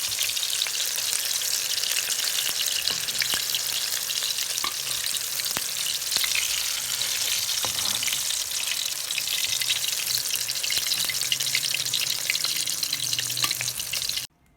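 Chicken lollipops frying in hot oil, a steady dense sizzle and crackle running continuously at close range with small pops scattered throughout, no voices, ending abruptly.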